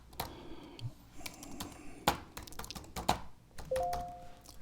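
Computer keyboard keys tapped in short irregular bursts while entering a password, close and fairly quiet, with a few louder clacks and a brief beep near the end.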